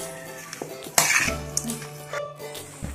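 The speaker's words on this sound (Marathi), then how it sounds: "आणि आता हे सर्व साहित्य आपण मिक्स करून घेऊया" Marinated chicken biryani ingredients mixed in a bowl, with close scraping, clinking utensil strokes and a sharp clatter, loud and alone.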